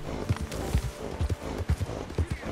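Horse hooves clip-clopping in Red Dead Redemption 2 in a steady, even rhythm over a low rumbling background, several evenly spaced hoof falls, moderately close.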